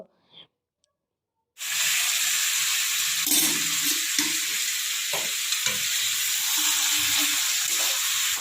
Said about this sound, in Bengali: মাংসটা একটু হালকা ভাজা ভাজা হয়ে যাওয়ার পরে